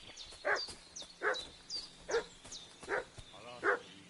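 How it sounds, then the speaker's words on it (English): A dog in Kingdom Come: Deliverance 2 barks five times at a steady, even pace, set back a little in the scene, while small birds chirp faintly between the barks. "What's that dog making such a fuss about?"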